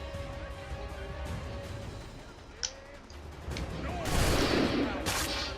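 Enemy musket gunfire in Assassin's Creed 3, scattered shots cracking at moderate distance, followed by a louder burst of noise toward the end.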